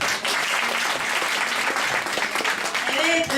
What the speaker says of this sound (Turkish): hani alkış